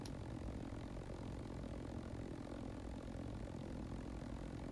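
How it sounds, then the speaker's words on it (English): A loud, steady propeller plane engine drone from the HMX 920 aircraft in the BeamNG.drive video game, holding a constant broadband roar throughout with no talking. "this plane is fairly loud"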